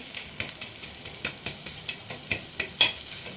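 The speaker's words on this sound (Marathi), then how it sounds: "मी तवा तापून घेतलेला आहे त्याच्यावर आता आपण हा कांदा भाजून घेऊ" Onion roasting on a hot tawa griddle for masul vadi, a soft steady sizzle broken by a string of light scraping stir taps at an even rhythm, close and fairly quiet with no talk.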